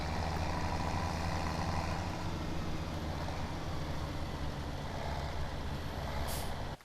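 Tractor engine in the video game Farming Simulator 2017 rumbling steadily at close range, a loud continuous low drone with a brief hiss near the end, no talk.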